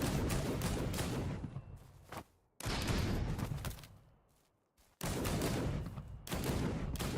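Gunshots in a third-person shooter game under development, rapid bursts of automatic fire in three close, loud volleys separated by short silent gaps.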